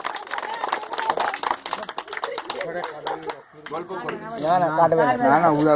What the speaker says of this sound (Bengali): তালি মারো।